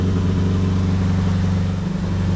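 A Triumph TR4 race car engine idles while warming up, a steady, loud low rumble with even pulsing and no revs, running alone throughout.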